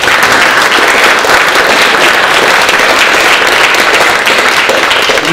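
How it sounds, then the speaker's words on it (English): Loud, sustained applause from an audience at a slideshow talk about the 1927 Mount Baker lodge, dense steady clapping filling the room for several seconds without a break. "how about a big round of applause?"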